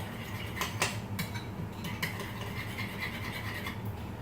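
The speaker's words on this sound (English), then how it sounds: "stir it, mix it up really good" A spoon scrapes and rubs inside a bowl as a sweet, acidic BBQ sauce is stirred. The scraping runs quietly and continuously, broken by a few sharper clinks, with no voices.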